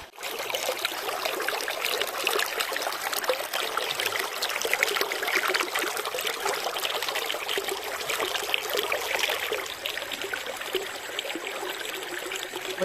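The Tinucan River flows at a nature camp, a steady broadband rush of running water that stays constant and fairly loud throughout, with no talk.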